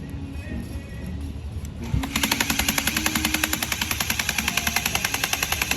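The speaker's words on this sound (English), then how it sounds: "that's when we're getting the sound of the VTC smacking back and forth" Honda K-series engine with a failed Skunk2 Tuner 3 cam gear, the VTC rattling and smacking back and forth from vibration: a loud, rapid, evenly spaced metallic clatter that starts abruptly after a smoother idle and holds steady.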